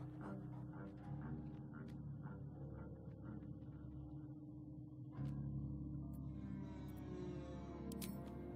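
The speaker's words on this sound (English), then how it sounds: "The dog pants through a ball held firmly in his mouth." A dog in Baldur's Gate 3 pants steadily through a ball held in its mouth, a soft rhythmic huffing with faint whimpers over a low game ambience.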